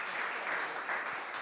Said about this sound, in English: Can we give a round of applause for our amazing panelists?